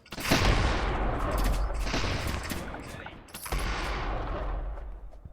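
Rapid gunfire-like shots from video game defense towers, including a cannon tower, firing continuously in dense loud bursts, with a brief dip midway before the barrage resumes.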